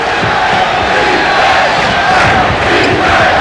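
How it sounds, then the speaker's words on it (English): Basketball arena crowd at a 1993 NBA playoff game between the Knicks and Bulls, a dense, loud roar of many voices chanting defense, sustained and reverberant throughout. "the first chant of defense from the crowd"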